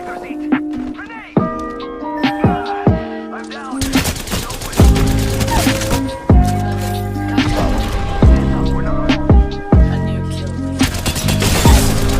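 Gunfire in the video game Apex Legends, loud rapid bursts and single shots cutting through music and game effects, with a person talking over parts of it.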